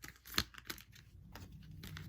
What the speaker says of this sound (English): I always shuffle 3 times before I start.